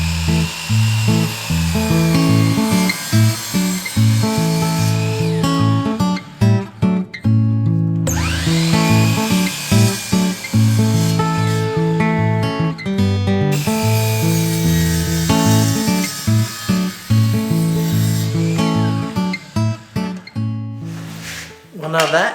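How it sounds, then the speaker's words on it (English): Power saw making straight cuts through a wooden block for a kitchen knife block, a loud whining buzz broken into repeated bursts with short pauses between passes. "Do my straight cuts first, leaving a little excess."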